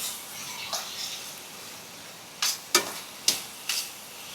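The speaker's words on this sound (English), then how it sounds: "So we're gonna go in with a 1/4 cup of brown sugar." Escovitch sauce stirred after brown sugar goes in, with quiet scraping and a few sharp spoon knocks against the pot in the second half over faint background hiss.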